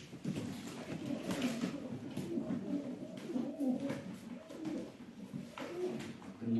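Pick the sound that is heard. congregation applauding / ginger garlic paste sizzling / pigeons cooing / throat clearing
pigeons cooing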